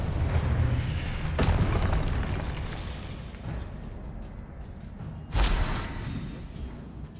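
Two Confringo spell explosions in the video game Hogwarts Legacy burst out as broad booming blasts, one early and one later. A continuous rumbling bed of game sound runs underneath.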